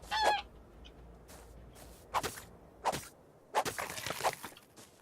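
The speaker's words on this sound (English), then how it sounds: "I'm just gonna kill dodo birds with a spear just because it's quicker" Dodo birds in Ark: Survival Evolved squawk and honk as they are struck down with a spear, several short goose-like calls spaced a second or so apart over a quiet background.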